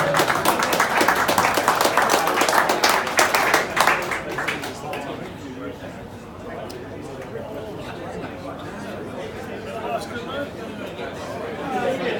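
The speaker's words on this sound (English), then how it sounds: "Nice hand of applause for Frank Gio, please." Audience applause at a reunion at a Holiday Inn in Melbourne, a burst of many hands clapping that fades after about four seconds into crowd murmur and chatter.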